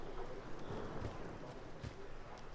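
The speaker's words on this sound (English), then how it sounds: "I hear footsteps." Rapid footsteps thud in a Call of Duty match, a steady run of soft impacts under continuous game noise, fairly close and moderately loud.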